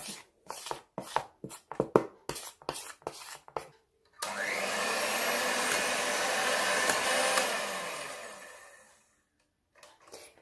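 An electric mixer beats plum cake batter with flour added in stages, first a string of short pulsed bursts, then one steady whirring run of several seconds that fades out, close and alone.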